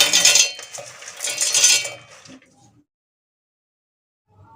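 Nuts tipped into a large steel mixer jar for homemade baby protein powder, two bright rattling clatters of pieces hitting metal, then near silence.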